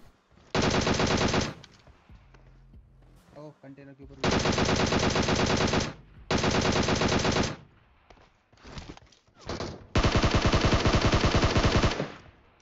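Automatic gunfire from PUBG Mobile, fired from a distance in long sustained bursts separated by short pauses, loud and dense, with quieter game noise between bursts.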